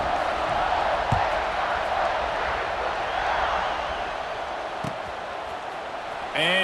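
Steady roar of a stadium crowd in EA Sports College Football 26 before a kickoff, a broad sustained wash of cheering with a few sharp thumps, loud and continuous throughout.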